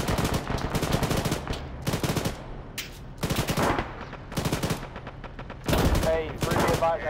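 Bursts of gunfire crackle throughout a military video game battle at trench lines near an airfield in Eastern Europe, with rapid machine-gun volleys and separate shots arriving in loud clusters separated by brief pauses.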